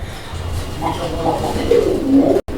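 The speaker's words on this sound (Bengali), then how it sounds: "এটা হচ্ছে গররা কবুতরের একটা জোড়া" A pair of Gorra pigeons coo at a pigeon market stall, low soft throaty calls swelling and repeating over a few seconds, close by, with faint background noise.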